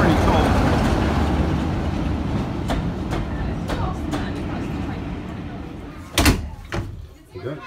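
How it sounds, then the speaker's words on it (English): Boarding a diesel train: steady rumbling engine and carriage noise fills the first six seconds, then sharp door clunks and knocks as people get on, with talk present. "I was hoping for a steam train, but it turns out to be blinking diesel."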